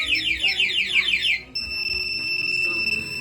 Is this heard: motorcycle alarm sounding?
yes